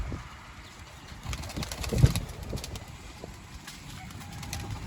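Low, soft cooing of pigeons close by, repeated over steady background noise, with faint rustling and one brief thump.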